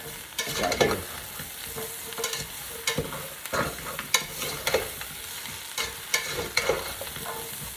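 Potatoes stirred into vegetables frying in a pot, with a steady sizzle beneath repeated scraping and clattering stirs for soup, close and fairly loud, with no talking.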